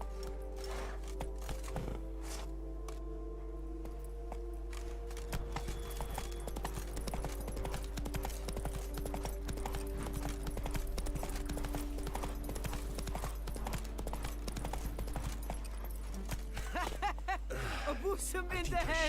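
Roach, a horse galloping in The Witcher 3: Blood and Wine, with rhythmic hoof clip-clops running steadily through the scene. Game music and dialogue voices play over the hooves.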